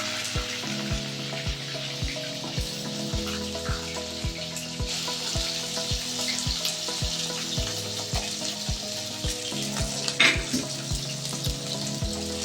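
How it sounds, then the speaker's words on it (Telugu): Brinjal pieces frying slowly in hot oil, a continuous close sizzle with occasional stirring under a steady rhythmic musical beat, no one talking. "వంకాయని ఇలా నెమ్మదిగా వేయించుకోవాలి"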